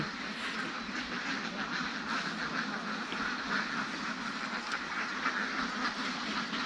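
A big flock of ducks on a duck egg farm during morning egg collection quacks in a dense, continuous chorus, steady and fairly loud throughout with no talking.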